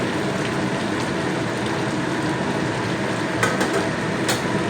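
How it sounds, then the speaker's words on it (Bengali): Steady, close sizzling and frying in a pan as fried small prawns join cooking winter vegetables, with a couple of faint utensil clinks near the end. "আমি চিংড়িগুলো পুরোটাই দিয়ে দেবো"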